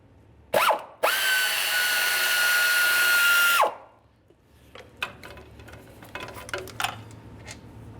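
Power drill or impact tool spinning out 13mm-headed mounting bolts along the bottom of a 2012-2018 Nissan Altima 2.5L four-cylinder intake manifold: a short burst, then a sustained whine of about three seconds, followed by faint clicks and clinks of handling.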